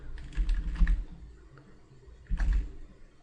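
Two short bursts of typing on a computer keyboard, a word entered into a website search, with quick clustered keystrokes separated by a quiet pause; close and moderately loud, no voices.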